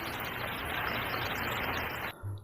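Heavy rain pours in an animated story, a dense, steady hiss of falling water that cuts off abruptly near the end.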